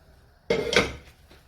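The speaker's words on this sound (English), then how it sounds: "Now I'm adding the lentils." A single metallic clunk and brief scrape as thickened lentils are spooned into a cooking pot for a vegetable sauce, close and short, then fading into quiet.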